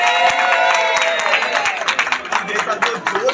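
Crowd applause for Team Parinde at a JCI City Star Goraya Happiness Holi gathering, a dense patter of many hands clapping throughout with cheering and voices mixed in.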